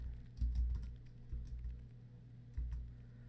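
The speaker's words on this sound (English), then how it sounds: "So we're going to type in nesting bowls" Keys tapped on a computer keyboard, a few quiet clustered bursts of clicks with pauses between them, close and fairly soft, no talking.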